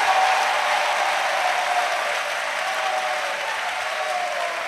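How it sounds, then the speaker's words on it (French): A church congregation in Côte d'Ivoire claps hands for Jesus in steady, dense applause that holds loud and even throughout, with no clear voices over it. "Let's clap to Jesus."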